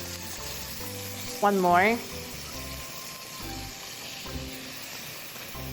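Soy sauce sizzling in a hot frying pan for egg fried rice, a steady low crackle with one brief louder burst near the start, under a speaking voice.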